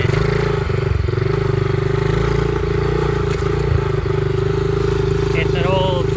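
An old Baja Motorsports 49cc dirt bike that had been sitting for years runs at a steady, buzzing idle close by. The drone is constant with slight rattles, and a brief voice cuts in near the end.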